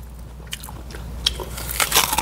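Crisp, crunchy bites and chewing of an apple jujube up close, a series of snapping crunches that grow denser and louder toward the end.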